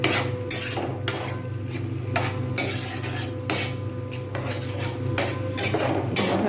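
An egg fries in a frying pan as a spatula clinks and scrapes against the metal in a regular rhythm over a soft, constant sizzle, nearby and without speech.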